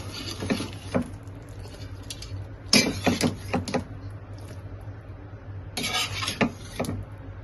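Stuffed brinjal curry being served from a pan into a bowl, with three clusters of scraping, clinking utensil-against-cookware sounds separated by quieter gaps, close and moderately loud.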